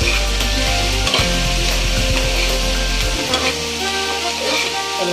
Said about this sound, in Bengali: সব মশলাগুলোকে একটু ভালো করে কষিয়ে নিতে হবে।